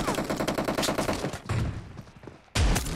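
A quick volley of gunshots in a shooting video game, rapid rhythmic cracks for about a second and a half, then a short lull before another loud blast near the end.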